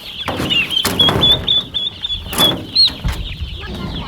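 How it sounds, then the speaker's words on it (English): Young meat turkeys peep in high, thin repeated calls close by on a homestead, with scuffling and wing flutters around them. "And here's our meat birds. Turkeys."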